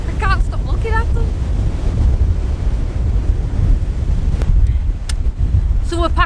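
An incoming tide breaks on the coast at Cleveleys under strong wind, a loud continuous roar of surf and heavy wind buffeting on the microphone, with a few gull-like calls at the start and end.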